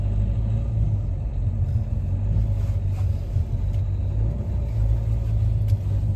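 A car engine with interior rumble throughout as the driver gives it gas, a steady low drone with slight surges, close and fairly loud with no talk.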